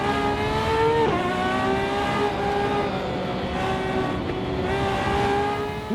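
A Ferrari FXX-K supercar being driven hard on public roads in Northern Ireland, its engine loud and close with rising and falling revs and sharp shifts under continuous road noise.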